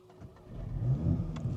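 A VW Golf GTI Clubsport MK8.5 engine starts and revs up to a raised idle, a brief close rising engine swell from a quiet start, no speech.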